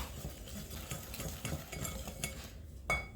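A mixture being stirred in a bowl with a utensil, steady scraping and clinking strokes close by, with one sharper tap of metal near the end, no talking.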